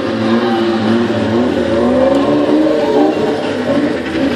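A BMW E36 tilted up on two wheels drives past at a show ground with a loud, steady engine drone and whirring tyres, continuous and close, with a brief spoken word at the start.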